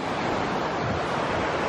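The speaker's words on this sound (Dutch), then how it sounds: "En we hebben hier al van dit soort prachtige beken." Stream in Fulufjället National Park, Sweden: a steady, dense rush of flowing water, close and even throughout, with no voices.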